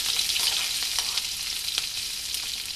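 Steady crackling sizzle of tempering spices frying in hot oil for a brinjal tamarind curry, bright and dense, continuing without pause for a few seconds.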